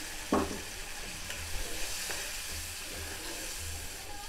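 Water poured into a pan of fried spices for a Kawoi fish curry, a quick crackle as it hits the hot oil, then a steady low sizzle and bubbling close by.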